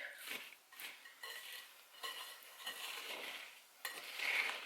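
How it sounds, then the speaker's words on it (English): A bourbon fruit roll mixture with vanilla wafers gets stirred in a bowl, with soft repeated scrapes and clinks of a utensil against the bowl. The sound is fairly faint and close, with no talking. "Just going to stir it really, really well."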